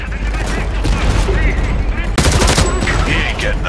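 Heavy gunfire from a firefight with hostiles in Homefront: The Revolution, with dense, continuous bursts of shots and booms. A sharp, loud crack lands midway and is followed by more rapid fire.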